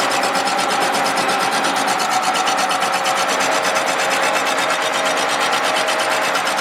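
A Willys L134 engine block gets its final decking cut on a machine, producing a loud, steady, close scraping hiss of cutter on cast iron with a fine rapid texture and no pauses.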